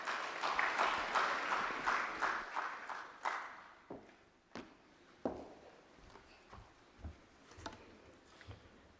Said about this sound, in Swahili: Makofi mengi kwake.